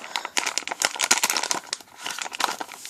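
Close, crackly crinkling of a plastic zip bag being handled, a continuous run of sharp rustles with no voices.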